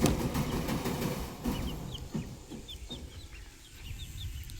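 Gamefowl chickens give soft, repeated clucks and chirps at close range over a steady background rumble, with no talking.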